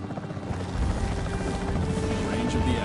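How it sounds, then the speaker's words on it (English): A capture team helicopter in Jurassic World Evolution 3 drones steadily with a dense, continuous rotor roar that swells slightly partway through, close and loud with no voices. "The priority needs to be tranquilizing it with the capture team chopper."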